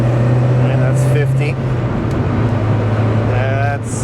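A Mazda Miata, recently fitted with a new timing belt and water pump, drives at highway speed. Its engine gives a steady, loud drone with a sustained low hum and road noise, and people talk over it inside the car.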